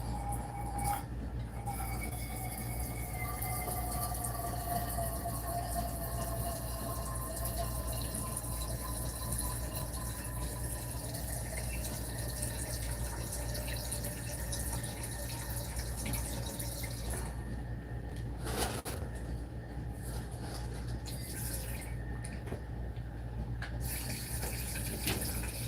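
Water runs steadily from a tap into a container, a continuous close splashing flow with a brief change near the end; no one speaks over it.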